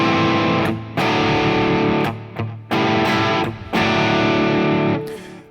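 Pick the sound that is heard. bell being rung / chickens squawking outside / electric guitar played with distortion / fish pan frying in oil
electric guitar played with distortion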